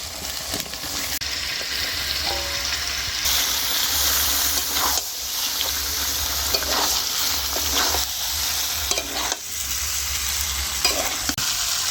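Potatoes tumble into spice paste frying in oil in a pan for Bengali alur dom, with steady sizzling, stirring scrapes and a few soft clanks running through continuously, close and fairly loud, no voices.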